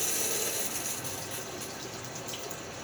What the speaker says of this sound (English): Rinsing off the side of the tub here.